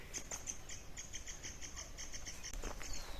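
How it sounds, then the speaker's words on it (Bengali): Small birds call in a tea garden at Temi, Sikkim, during cherry blossom season: thin, high chirps repeat steadily throughout, moderately distant, over faint outdoor background with no talking. "পাখি ডাকছে।"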